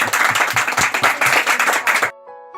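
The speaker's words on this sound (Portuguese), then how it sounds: "Uma salva de palmas, irmão." A church congregation claps in rhythmic unison, loud and close with a steady beat, then stops abruptly, leaving a faint tonal sound.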